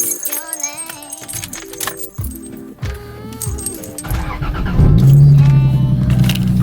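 Car keys jingle and clink in bursts beside a Lexus IS300, then a car engine turns over and settles into a low, steady rumble near the end.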